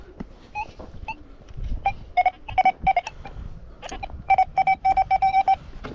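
A metal detector sweeps over buried metal in a field at a medieval village site, giving repeated short high-pitched beeps in quick bursts over faint rustling and handling noise.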